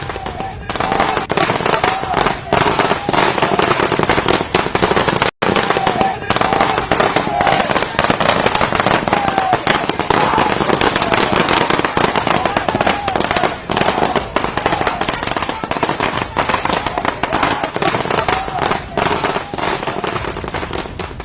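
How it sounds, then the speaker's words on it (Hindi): Firecrackers set off by celebrating supporters outside Arvind Kejriwal's house crackle loudly in a dense, continuous barrage of rapid pops lasting the whole stretch, with crowd voices mixed underneath. "केजरीवाल के समर्थकों ने इतनी जल्दी पटाखे भी अरेंज कर लिए"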